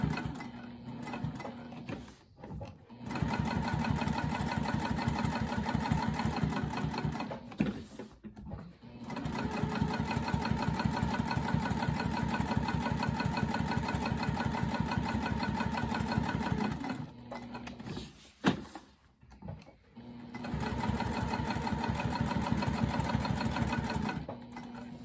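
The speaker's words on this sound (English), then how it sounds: "I'm going to add a couple stay stitches here right at that juncture of where the flap and the opening meet" A sewing machine runs in steady bursts while putting stay stitches into an iPad sleeve where the flap meets the opening. Its close, fast mechanical chatter is broken by brief pauses, with no talk over it.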